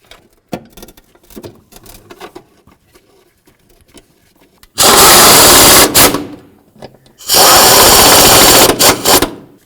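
Two loud bursts of a power tool running bolts in tight, a few seconds each with a pause between, come after quieter handling clatter while a 4WD actuator is fitted inside the wheel well of a 1994-2004 Chevy S-10.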